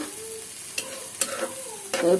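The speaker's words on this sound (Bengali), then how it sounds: "ছোট চিংড়ি ঘুষো চিংড়ি যেগুলোকে বলে তো সেগুলো এখন তেলের মধ্যে তো ভাজা ভাজা করতে হবে" Small shrimp sizzle steadily in hot oil, with a few sharp clinks of a utensil stirring the pan, close by.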